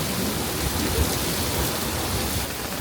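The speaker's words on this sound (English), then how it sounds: "It's raining cats and dogs out there, like fat rain, not nice rain." A heavy rain downpour during a storm, a dense and constant roar of fat raindrops with low rumbling underneath, loud and enveloping with no voices.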